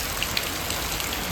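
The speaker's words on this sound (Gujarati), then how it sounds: "વરસાદ આવે મિત્રો" Rain pours down in a village in Botad, a steady, even hiss of falling water with occasional faint drips, with no voices.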